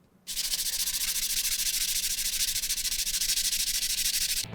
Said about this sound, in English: I sand like this